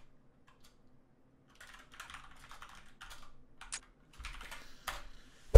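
Computer keyboard typing while a password is changed during a Counter-Strike 1.6 session: scattered close clicks begin faintly, then come in quick irregular bursts of keystrokes.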